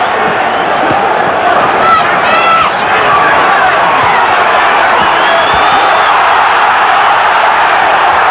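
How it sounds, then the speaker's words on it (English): A loud crowd at a heavyweight boxing bout roars and cheers without letup, with shouts and whoops rising early on over a constant wash of arena noise and voices. "Crowd reacting to Bruno's keeping Witherspoon pinned"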